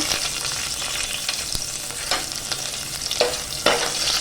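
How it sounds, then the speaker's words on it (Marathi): Hot oil sizzles steadily as garlic fries close by, with a few sharper crackles popping through the continuous hiss. "आता आपलं तेल तापलेलं आहे आता आपण ना त्यात लसूण टाकून घेऊया"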